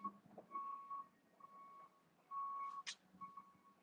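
Repeated reversing beeps ring out from a bucket truck during power line replacement work, steady tones recurring over several seconds, moderately distant with a low background hum.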